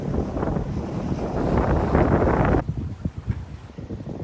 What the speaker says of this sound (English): the wind's about 15 to 20 knots, and we're sailing